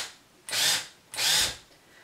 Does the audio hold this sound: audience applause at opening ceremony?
no